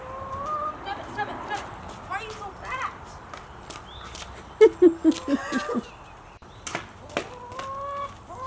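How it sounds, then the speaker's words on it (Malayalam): Chickens in a home yard, a short run of clucking calls from about the middle of the clip, close and fairly clear, with other faint bird sounds and yard noise around them. "ഓരോരോ കോഴികളായിട്ട് വരുന്നുണ്ടില്ലേ?"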